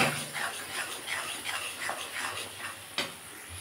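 Cumin and spices fry in a pan for a cauliflower bharta, giving a steady close sizzle with soft stirring scrapes and one sharp clink near the end.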